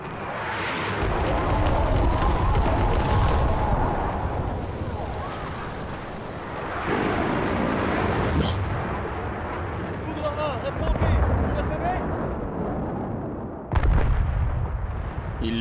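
Heavy airstrike and artillery explosions in the Battlefield 6 war game campaign, a dense continuous rumble of blasts with sharp bursts near the end, mixed with a voice talking over radio.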